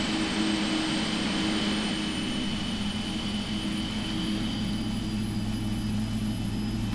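A PMDG 777 jet engine spooling up in the Prepar3D flight simulator, a steady, loud turbine roar and whine with a high tonal whistle, continuous and unbroken throughout.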